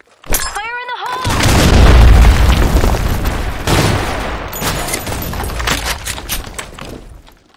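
Grenade blast from the shooter game Blackshot: a sharp, loud boom that swells into a long rumbling roar and decays slowly, with scattered crackling debris and distant gunfire through the tail; a short synthetic voice line comes just before.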